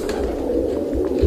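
Iranian high flyer pigeons from Isfahan coo close by in a brief, low, throaty rolling coo.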